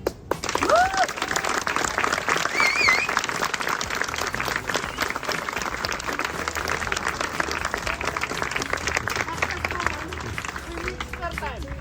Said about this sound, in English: Please applause for them.